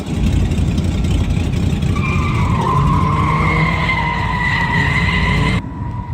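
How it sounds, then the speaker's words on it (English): Tires squeal in long rising and falling whines over a loud, roaring engine as a drift car slides through a drift at a training day, then the noise cuts off abruptly near the end. "Drifting in the drift car."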